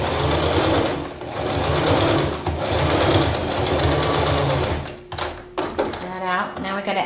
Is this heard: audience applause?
no